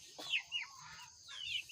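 Hungry chickens in a coop give a few short, quiet clucks and squawks, close by, with no talk over them.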